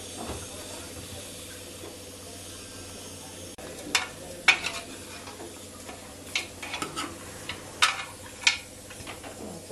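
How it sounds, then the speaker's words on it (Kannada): Hot oil tempering sizzles in a pan as a bit of salt is added, a steady low hiss with sharp crackles and scraping stirring strokes scattered over nearly ten seconds, no voices. "ಒಗ್ಗರಣೆಗೆ ಸ್ವಲ್ಪ ಉಪ್ಪು ಹಾಕ್ತಾ ಇದ್ದೀನಿ"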